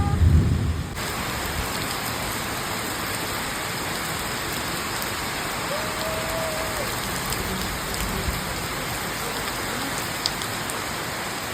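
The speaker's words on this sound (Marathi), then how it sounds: "पाऊस आला." Steady rain falls, a continuous dense hiss of drops on surfaces that stays even throughout, slightly louder in the opening second, with no voices.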